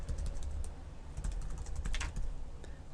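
Typing on a computer keyboard while writing PHP header redirect code, a steady stream of soft, close key clicks with occasional louder taps, heard without speech.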